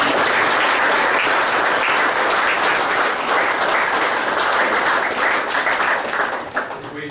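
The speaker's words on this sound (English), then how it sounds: "let's give the Lord a clap off" A church congregation at a men's breakfast claps for the Lord, a dense, loud wash of applause that holds steady for several seconds before thinning slightly at the end.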